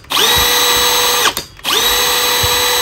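A Milwaukee 12V cordless drill/driver whirs loudly at steady speed, stops briefly, then spins up again and keeps running, close by with no talk.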